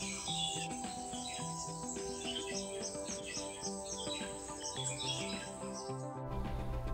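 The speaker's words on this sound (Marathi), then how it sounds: "पक्ष्यांचा किलबिलाट" Morning birdsong in a dense areca-palm plantation near Tarkarli and Devbag in Sindhudurg, Konkan: many birds chirp and whistle continuously over a steady cricket drone, with no voices.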